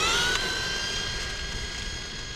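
A Kyosho Javelin RC car with a 550 motor whines at high pitch during a speed run, a steady electric tone that gradually fades as it pulls away.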